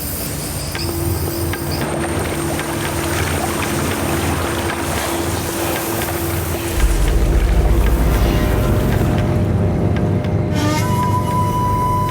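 A boat moves on open water, its engine a steady low drone under constant wind and water wash, with a heavier rumble surging in toward the end and no voices.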